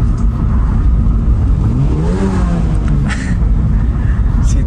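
A sports car engine hums steadily and then revs up, its pitch rising and falling, with a faint voice briefly underneath.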